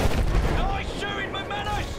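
Gunfire in a war setting bursts out in heavy booming shots, loud and close over about two seconds, with a voice shouting briefly over the blasts.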